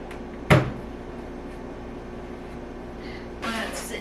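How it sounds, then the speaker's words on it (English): The door of a newly unboxed ROVSUN portable clothes dryer opens indoors with a single sharp plastic click and clack, followed by quiet room tone and a soft rustle near the end. "when you open the door"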